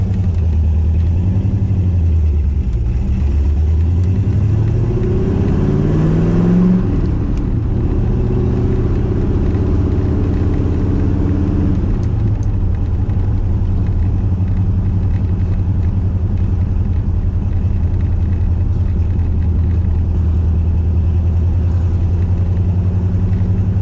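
A 1980 Chevrolet Corvette with stage 1 upgrades rumbles steadily on a test drive, its engine loud and close with a brief rise in pitch as it moves over an aggressive driveway.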